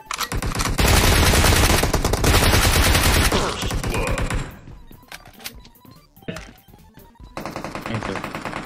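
Heavy automatic gunfire erupts in the mobile battle royale game PUBG Mobile, loud and sustained bursts for several seconds, then scattered single shots and thuds before another rapid volley at the end.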